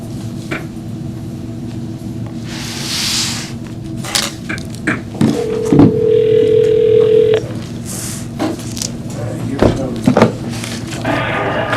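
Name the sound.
telephone dial tone while calling on a phone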